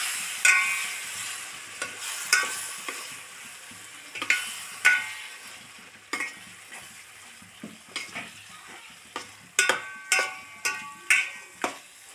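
A spoon stirring a curry mixture with pepper and turmeric in a cooking pan, repeated scraping and clinking strokes at an irregular rhythm over a faint sizzle, close and fairly clear.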